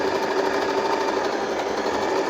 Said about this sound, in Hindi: अब उसके बाद हम बी की सिलाई इस्तेमाल करेंगे।